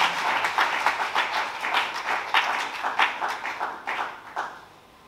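Audience applause at a church conference acclaiming the Lord, a dense steady wash of clapping hands that holds for several seconds and then tapers off near the end.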